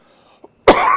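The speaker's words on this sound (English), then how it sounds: "still got the cough from the Rona." A single harsh, close cough bursts out after a brief soft sound, loud and raspy like a throat clearing, from a man still recovering from COVID.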